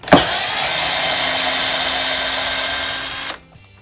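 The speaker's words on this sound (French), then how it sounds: "on dévisse la grande vis là" A power drill spins out a large screw during a French cleat plane-storage build, a loud continuous high whine for about three seconds that cuts off abruptly, with no voices.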